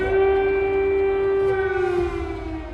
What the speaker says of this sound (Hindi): जब जब सायरन की आवाज आती है, यूक्रेन के लोगों के दिल की धड़कन बढ़ जाती है।